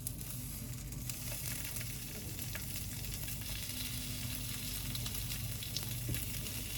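Squid pieces frying in hot, boiling oil for a snack: a continuous crackling sizzle with scattered sharp pops, fairly close and steady in level, with no voices.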